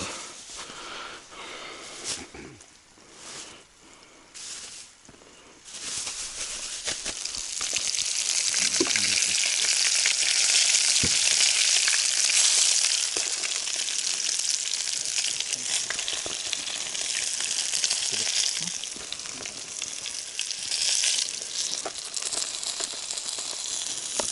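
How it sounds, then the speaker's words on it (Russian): Flour-coated fish fries in a pan outdoors by a river, a steady loud sizzle and crackle that swells after a quieter start and keeps going, with occasional clinks and stirring. "Кто-то любит в сухарях жарить и в манке жарят."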